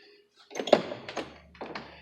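A Jeep rear door with a newly replaced latch and outer handle shuts with a solid thunk, followed by a couple of softer knocks as it settles, close and fairly loud.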